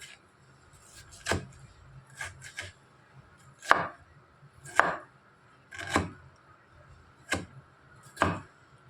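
A knife slices through beetroot on a cutting board in about eight crisp chops at an uneven, unhurried pace, close and clear with no voices.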